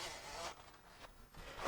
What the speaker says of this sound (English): Pull your seatbelt all the way until it locks and starts to click.